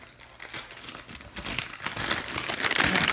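Plastic packaging of a Pokémon grass-type wax melt scent sampler crinkles and rustles up close, growing louder toward the end, with no talk over it.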